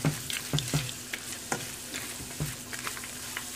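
Roasted ingredients stirred into jaggery syrup and coconut in a pan for kuthari aval, with a soft steady sizzle and repeated spoon scrapes and knocks, fairly quiet.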